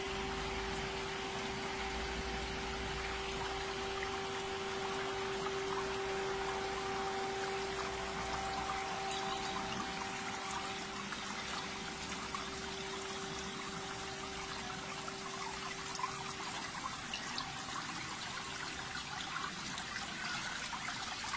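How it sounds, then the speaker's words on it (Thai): Water spills steadily from a water-curtain feature into a garden swimming pool in Pathum Thani, a continuous close splashing trickle with a faint pump hum beneath, alone and without talk throughout. "ฟังเสียงน้ำล้นนะคะเย็นสบายเลยค่ะ"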